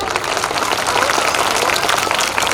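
Audience applause for a young girl in class three after her speaking performance at a school event for mothers, a dense, steady clapping from a crowd throughout, loud and continuous.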